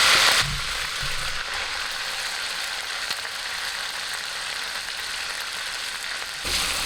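Onion frying in a pan for fajitas, a steady even sizzle hissing continuously at close range, with a louder burst at the start and end.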